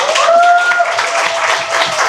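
A crowd at a mayoral campaign office opening in Gwacheon breaks into loud, sustained applause, dense clapping close by with a thin whistling tone briefly sounding over it.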